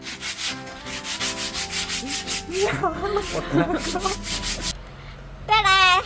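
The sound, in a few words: sanding wood with the rough side of sandpaper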